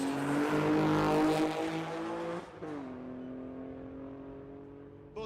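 Drag racing cars, including a Honda Del Sol with a V6, run down the strip at a raceway, a loud sustained engine drone that shifts pitch midway and then holds steadier, with no voices.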